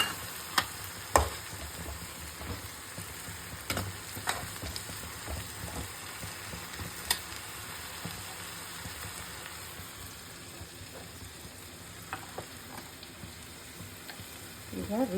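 Green banana sabji with tomato, chili powder and turmeric sizzles quietly in a pan, a soft steady crackle with scattered ticks and stirring clicks, fairly faint and with no talking over it.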